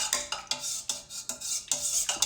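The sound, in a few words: mixing rustic bread dough with warm water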